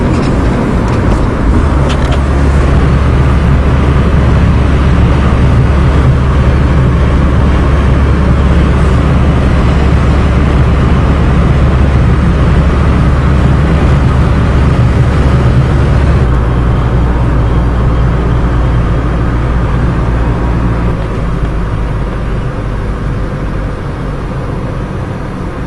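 A diesel caravan with a five-speed drives along a road in a windstorm, giving a loud continuous rumble of engine and road noise mixed with wind buffeting, steady through the whole stretch with no one speaking.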